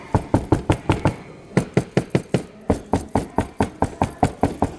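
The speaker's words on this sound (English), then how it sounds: "I'm even more comfortable giving them a pounding right here in the display." Repeated heavy pounding on a RIDGID rolling tool box on a store display floor, about twenty loud, evenly spaced thumps in quick succession with a brief pause near the middle.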